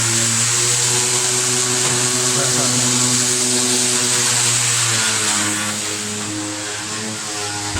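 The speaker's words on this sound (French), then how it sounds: "on est en train de poncer les supports" Power sander grinding over wall surfaces during interior painting prep, a loud continuous whining drone with steady tonal hum, close by and unbroken, easing slightly toward the end.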